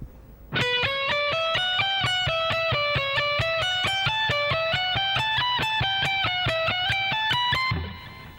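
A slow, evenly picked electric guitar lick with a distorted tone, single notes stepping up and down steadily, alone and clear, ending on a sustained note.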